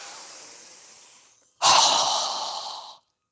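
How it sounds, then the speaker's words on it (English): During a yoga breathing exercise, a person takes a long, softening inhale, then after a short pause lets out a strong, forceful exhale through the mouth, close and loud before it fades to silence. "we're going to exhale with a strong breath through our mouth as we lower our arms and hands down"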